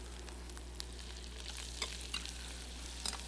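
Chopped zucchini stir-frying in a pan for jajangmyeon gives a faint, steady sizzle with a few soft scraping clicks from stirring.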